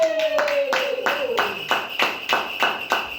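A church congregation clapping together to acclaim the Lord, steady rhythmic handclaps at an even tempo beneath a sustained sung or shouted tone.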